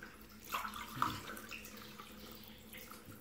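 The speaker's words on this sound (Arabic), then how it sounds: "غادي نضيف 3 كؤوس من الماء" Warm water poured from a glass into flour for mini pizza dough gives a brief close splash, then a soft, quiet trickle fading away, with no talking.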